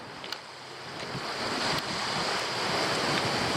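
Strong wind roars and buffets steadily against the microphone at a lake, with a faint surf-like wash underneath and no voices.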